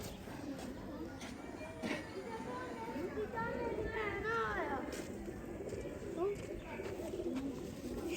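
Breeder pigeons coo softly at close range in repeated throaty, rolling calls, while someone talks over them.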